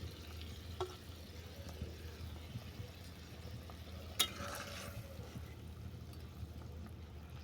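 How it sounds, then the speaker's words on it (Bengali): Pieces of fried katla fish cooking in a pan give a faint, steady sizzle with a few soft clinks and one sharper knock midway. "তুলে দিলাম ভেজে রাখা কাতলা মাছ।"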